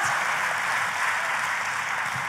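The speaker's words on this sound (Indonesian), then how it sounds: "Kalau mau tepuk tangan, boleh tepuk tangannya yang lebih dahsyat." Church audience applauding steadily, a dense, even wash of many hands clapping together that holds at a constant level throughout, with no voices heard.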